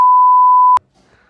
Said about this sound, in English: Maybe we should beep their name.